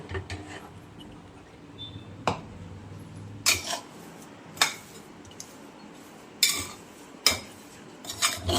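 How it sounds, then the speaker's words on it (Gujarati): A spoon scrapes and clinks against a pan as a rice flour laddu mixture is stirred, giving irregular sharp knocks spaced a second or so apart over a soft, quiet background. "આ રીતે સરખી રીતે મિક્સ કરી લેવાનું."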